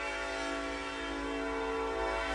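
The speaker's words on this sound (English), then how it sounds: "I can't hear that train passing by." A train passes in Texas, sounding a sustained, steady horn tone over a low rumble, held throughout at moderate loudness with no speech.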